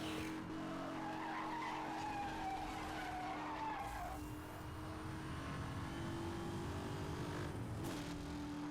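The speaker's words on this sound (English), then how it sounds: "Put a little drift in there. Just for the tire squeal." Long, loud tire squeal as a car drifts through a turn in Need for Speed Hot Pursuit Remastered, a continuous skid over the engine's drone that fades after a few seconds before a brief second screech.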